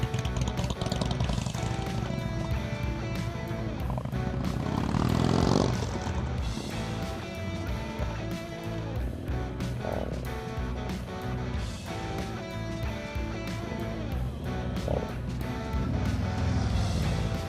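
Motorcycle engine at a practice session with an inconsistent throttle, droning continuously as the revs rise and fall unevenly, with a louder surge around the middle, heard at moderate distance with no talking.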